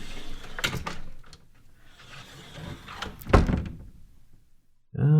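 A basement door in an office building opens with a few dull wooden knocks and thuds, one sharper thump midway, then a voice starts speaking right at the end.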